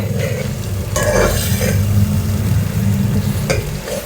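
Masala for an egg and potato curry fries in a pan, with a spoon stirring and scraping through a loud, close sizzle in a few quick bursts.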